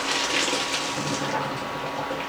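Hot water and boiled potatoes poured from a pot into a strainer, a steady loud rushing gush of liquid that runs continuously without pause.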